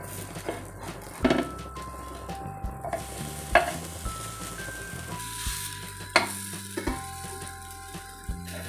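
Sweet corn chila frying on a pan, a low sizzle with sharp taps and scrapes of a spatula as it is flipped, and a few clattering knocks.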